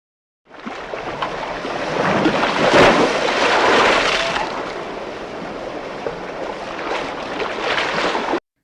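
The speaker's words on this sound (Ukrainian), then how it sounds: "гуркоче хвиля." Waves rumbling and rushing, a loud, steady wash of water that swells, peaks and then eases slightly.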